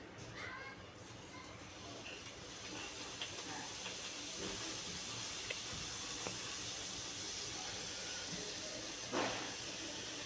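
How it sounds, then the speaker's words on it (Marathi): Pieces of dough are dropped one at a time into very hot oil for deep frying in a home kitchen, giving a steady broad hiss and crackle that runs throughout with a few brief louder pops. "आता हे बघा आपण एक एक सोडू आता तेलामध्ये."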